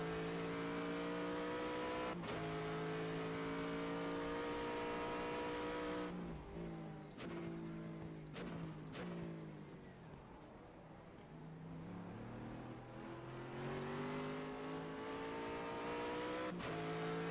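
An Aston Martin Vantage GTE race car at Sebring at night sounds off with a loud, sustained high-pitched engine note. Revs rise and fall through sharp gear shifts, and the note dips briefly mid-run before climbing again.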